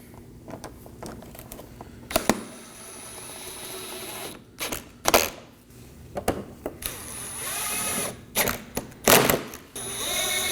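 A ratcheting tool snugs down 10mm fasteners on a 2020-2027 Toyota Corolla grille mounting panel, giving intermittent bursts of clicking and whirring separated by quieter handling noise and a few sharp knocks.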